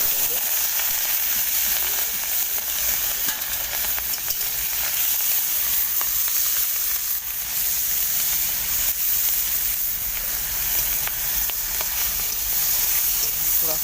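Freshwater snails coated in turmeric and salt fry in oil in a kadai, producing a steady, dense, close sizzle that holds at an even loudness throughout, with occasional faint stirring.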